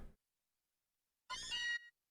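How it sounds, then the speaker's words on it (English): Meowth's cry in a Pokémon video game: a short, bright, cat-like meow of under a second, heard alone after a quiet gap and a faint brief sound at the start. "Oh, it's Meowth."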